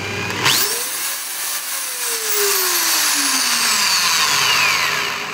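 A Makita variable-speed power tool spins up and winds down. Its whine sweeps smoothly in pitch over a steady motor hum, loud and close, with no talking.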